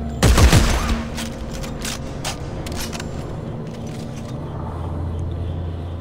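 Dead Space 3 co-op gameplay with a short, loud weapon burst at the start, rattling and sweeping for under a second, then a steady low mechanical hum and faint scattered clicks with no speech.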